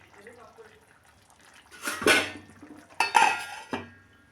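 Lid set on a metal pot of Kerala-style tuna fish curry with coconut oil and curry leaves, a few close clinks and clatters, with talk before them.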